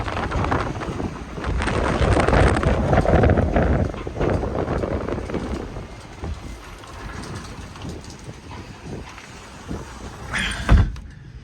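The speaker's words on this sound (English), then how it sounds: "Right now it's blowing 45 miles an hour" A strong wind storm blowing about 45 miles an hour roars across the harbor at Puerto Peñasco, a loud rushing gust that eases, with rattling, buffeting noise and a sharp knock near the end.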